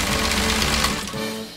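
A PFAFF 18 sewing machine stitches steadily at speed, a dense rapid mechanical chatter that runs loud and close for most of the moment before easing slightly near the end.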